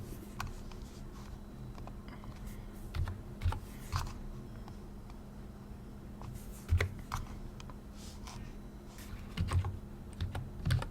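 Typing on a computer keyboard while entering a Linux terminal command, a steady run of close key clicks with a few heavier keystrokes, no talking.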